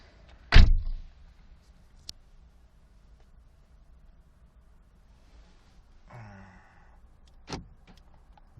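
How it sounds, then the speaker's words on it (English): A car door shuts with one loud, sharp thud early on, followed by quiet cabin stillness, a brief muffled shuffle, then a second fainter knock near the end. "now I close the door."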